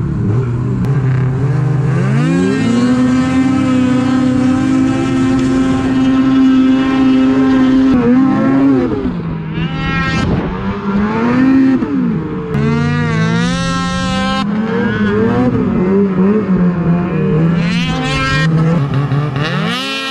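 Arctic Cat ZR 6000 snowmobile engine running very loud and close, holding a steady high drone before revving up and down in repeated surges with rising and falling pitch.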